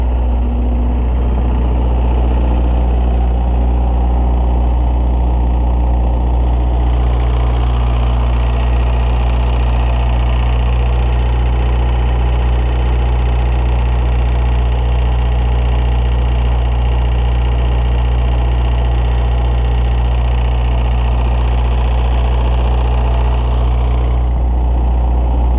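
A 3-phase generator engine runs steadily at idle, a loud continuous low drone with vibration and an even hum that does not change for the whole stretch, with no voices over it.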